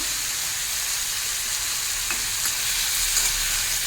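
Snake gourd frying on high flame in a pan, a steady bright sizzle and hiss running throughout with faint stirring scrapes, close and continuous with no talk.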